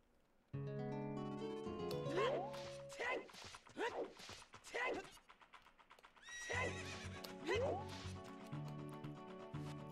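In The Legend of Zelda: Ocarina of Time, a horse gives several loud whinnies with rising and falling pitch, mixed with clopping hoofbeats over tonal game music.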